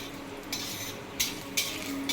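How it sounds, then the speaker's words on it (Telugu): Mustard seeds and spices fry in hot oil as tempering for an amaranth stem curry, a steady close sizzle broken by several sharp crackling bursts as the seeds pop and are stirred. "ఒక ఫ్రెండ్స్, పోపులు వేగిపోతున్నాయి"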